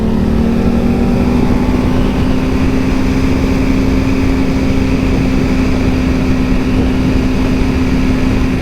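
A Suzuki GSX-R 600 sportbike engine drones steadily through a ride, heard as a loud constant hum mixed with wind rush, with no talk over it.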